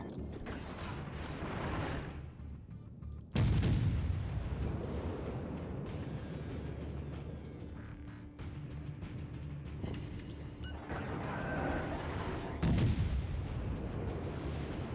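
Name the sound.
naval gunfire from ship's guns in World of Warships video game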